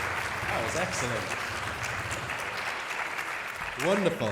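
An audience at a postdoc appreciation week event claps steadily throughout, a dense wash of applause with a voice speaking over it and a brief louder swell at the end.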